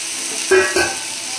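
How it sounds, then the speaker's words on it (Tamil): Vegetables with broccoli sautéing in a pan, a steady close sizzle with two brief stirring scrapes in quick succession, no talking. "நல்லா நம்ம வந்து சாட்டே பண்ணிக்கலாம்."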